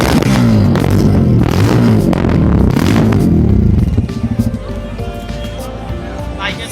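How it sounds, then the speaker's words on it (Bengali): A Bajaj Pulsar F250 motorcycle's 250 cc engine runs loud and close, a throbbing, rising rev for several seconds that then drops back to a lower, rougher idle. "বাইকের সাউন্ডটা অনেক সুন্দর।"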